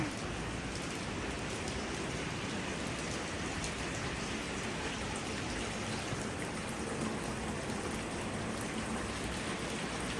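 Steady rain pouring down outdoors, a dense even hiss of drops hitting surfaces that holds constant throughout, with no voices over it.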